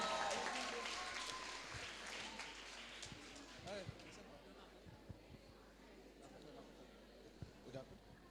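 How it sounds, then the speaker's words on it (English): Audience applause at a Model United Nations conference, loud clapping at first that thins and fades into scattered claps and murmuring chatter, with a voice talking over it. "So guys, round of applause for them."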